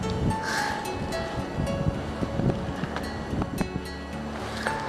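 Strong, cold wind buffets the microphone in steady, rushing gusts in a forest by a stream, with faint scattered knocks and rustles underneath.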